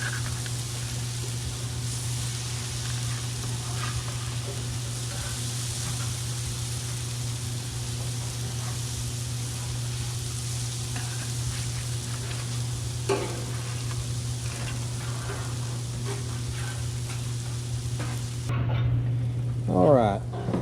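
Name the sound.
mullet and black drum fish sizzling on heated grill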